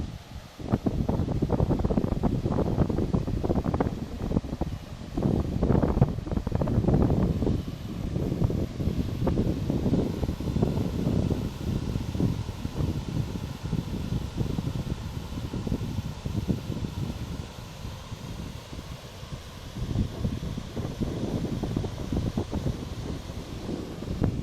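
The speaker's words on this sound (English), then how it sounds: "It's quite windy up here, so I'm not sure how it's affecting the quality of sound." Gusty wind buffets the microphone on a high lookout in Tamborine National Park with a continuous low rumble, rising and falling in strong blasts throughout.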